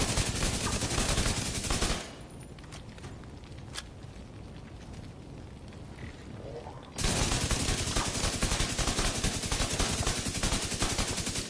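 Rifle gunfire in the shooter video game The Division 2: sustained rapid automatic bursts, loud and close, pausing for several seconds before resuming in another dense stream, with no talk.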